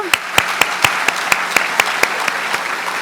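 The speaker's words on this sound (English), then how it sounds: "Let's give them a round of applause" Crowd applause for the Milwaukee Police Band at a police merit awards ceremony, with evenly spaced, crisp claps keeping a steady, quick rhythm over a continuous bed of clapping from the audience.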